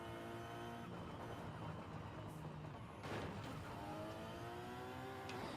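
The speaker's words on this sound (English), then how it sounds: "Ah, the turbo noises, go burr!" Engine drone and turbo whine from a car in the racing video game Forza Horizon 5, steady and loud throughout, with harmonic revving sweeps and a brief burst near the middle.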